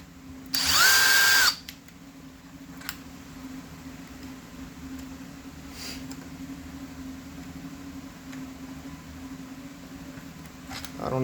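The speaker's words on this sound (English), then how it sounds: "So I need to take these screws out." A power driver whirs once, briefly and loudly, while removing screws from an Echo CS-490 chainsaw, then gives way to a low steady hum with a few faint clicks.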